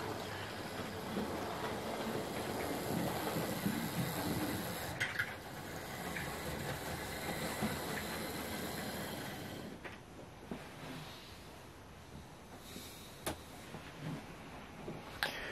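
A Hornby model locomotive from 1986 runs along its track with a continuous low whirring and rumble that stays steady, lightens toward the end, and carries a few faint clicks from the rails.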